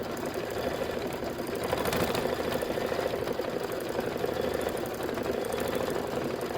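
An embroidery machine stitches a Kimberbell flower decorative outline on a quilted pillow block, a rapid, steady mechanical chatter of needle strokes that stays close and even throughout, with no talk.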